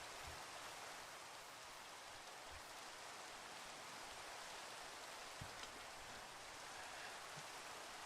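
Steady rain falls in the video game Minecraft, a soft, even hiss of drops that stays constant and fairly faint throughout with no voices.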